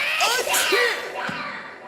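A cartoon sneeze from the Oggy and the Cockroaches series: a short whooshing, squeaky comic burst with swooping tones, followed by a brief sharp accent, heard close and alone.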